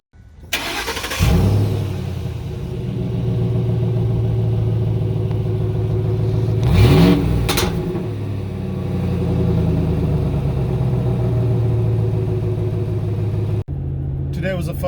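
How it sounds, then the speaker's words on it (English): A car engine with holes poked into its exhaust starts up close by and idles with a deep, raspy rumble, revs sharply once midway, then cuts off and quickly restarts. "Today was a fun day, poking more holes into the exhaust."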